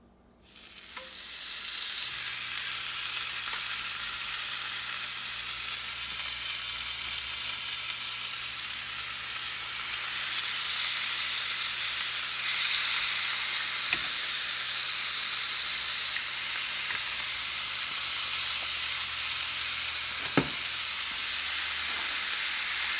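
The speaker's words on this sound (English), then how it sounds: "put our steaks on. Listen to it sizzle." Steaks sizzle loudly and steadily in a very hot pan, a continuous bright crackling hiss with no voices over it.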